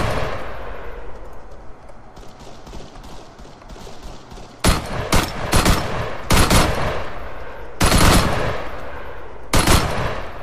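Bursts of automatic gunfire crackle in the military shooter ArmA 3, with sustained rattling volleys separated by short gaps and a steady background of distant firing.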